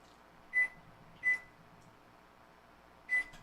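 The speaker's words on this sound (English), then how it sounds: "I'm putting it in the microwave for like 30 seconds." Three short electronic beeps from a microwave keypad, two close together and one a moment later, over a faint steady hum.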